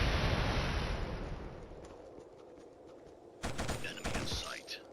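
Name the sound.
gunfire in the KillZone video game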